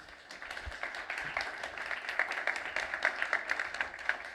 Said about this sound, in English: Big applause to Barry again